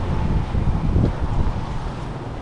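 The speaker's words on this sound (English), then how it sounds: "Kind of windy up here." Wind buffets the microphone on a hilltop cemetery, a steady, fairly loud low roar with gusty swells throughout and no voices.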